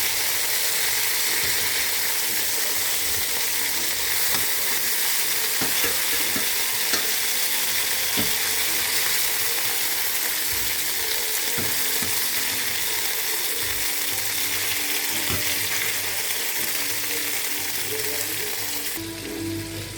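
Marinated wild boar meat fries in a pan, giving a loud, unbroken sizzle with intermittent scraping and stirring clicks underneath.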